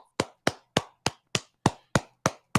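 Nine sharp hand claps in a steady, even rhythm, close and loud, with silence between each.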